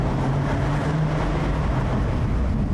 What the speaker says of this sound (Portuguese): E olha só, vamos passar por um túnel, dá até para escutar o barulho.